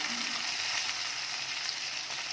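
Thinly sliced onions with a pinch of salt frying in a pan, a loud, dense, continuous sizzle heard close up with no voices.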